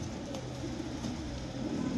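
Low, steady cooing from flying pigeons kept by a pigeon fancier at Talab Khatika, a continuous murmur of several birds close by with no voices.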